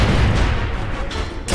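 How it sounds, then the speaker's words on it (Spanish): Headshot gunfire at a Boomer in the video game Gears of War rings out as a loud, booming barrage of rumbling blasts, with sharper cracks toward the end of the brief span. "Son disparos directos en la cabeza,"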